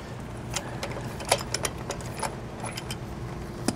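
A socket wrench backs a crimped hose fitting off a tire inflation kit on a 2022 Jayco Alante motorhome. It makes a run of light metallic ratchet clicks and clinks at close range over a steady low rumble.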